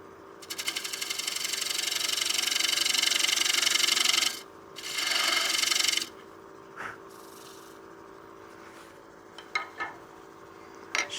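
Carbide rougher tool cutting a wooden bowl on a lathe, a close, rising scraping hiss for about four seconds, then a second short cut, followed by scattered light taps and clicks against the hum of the spinning lathe.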